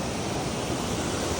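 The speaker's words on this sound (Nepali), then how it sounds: "खोला पनि डेन्जर छ, ठुलो ठुलो छ।" A big, dangerous river in Mustang, Nepal rushes past in a loud, dense, unbroken roar of churning water, close by and filling the whole moment with no voices.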